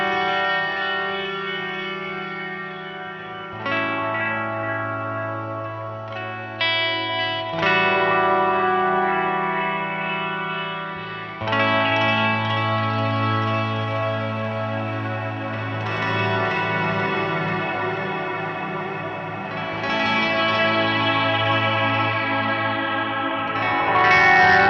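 Electric guitar played through an Eventide H90 multi-effects unit with reverb placed ahead of chorus, distortion and echo, sustained chords ringing loudly and continuously with washy, shimmering tails and no talking.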